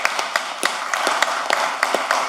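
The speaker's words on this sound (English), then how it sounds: "the mayor deserves a big round of applause" An audience claps for the mayor at a park event, a short burst of scattered, fairly sparse hand claps at moderate distance, uneven in rhythm and lasting only a couple of seconds.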